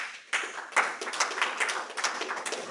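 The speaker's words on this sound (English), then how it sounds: "the applause from here says it to me at least" A small audience claps after a presentation at a conference on indigenous spirituality and global development, scattered hand claps quickly building into steady, moderately close applause with no voices.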